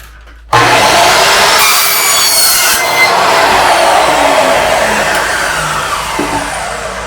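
Metal tile trim being cut with a cutting blade while supported on a block, starting abruptly as a loud, continuous high-pitched grinding screech that holds steady for several seconds.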